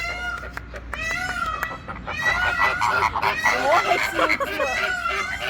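Loud, overlapping bird calls, shrill honking and squawking cries crowding together continuously and growing busier, with no one speaking.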